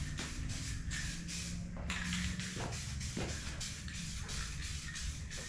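Spray can misting paint onto a 1993 white Foxbody Mustang notchback; a steady, close hiss of spray runs in repeated bursts throughout, with no talking.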